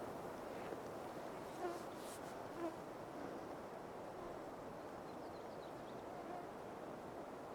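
Insects hum in a wet mountain meadow on the way to Crown Valley, a faint steady buzzing drone with occasional louder passes of individual bugs close by.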